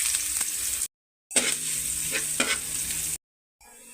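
Chopped ginger toasting in a frying pan, a steady close sizzle with stirring scrapes, broken by two short silent gaps.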